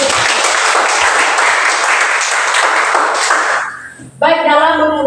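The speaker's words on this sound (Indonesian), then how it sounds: "Tepuk tangan untuk" A classroom group breaks into steady applause, the clapping held at a strong, even level before fading out near the end, after which a voice begins speaking.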